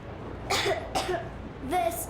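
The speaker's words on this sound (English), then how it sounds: "I have this cough." A voice in Metro Exodus coughs in three short bursts, spaced apart, close and fairly loud over a low background hum.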